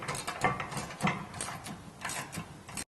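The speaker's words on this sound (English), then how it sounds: "Now we're going to use a 16mm socket and tighten the side plates." A ratchet wrench with a 16mm socket tightens the side plate bolts on a rear bumper for a Jeep Gladiator JT, giving a string of close, crisp clicking bursts with brief pauses between pulls.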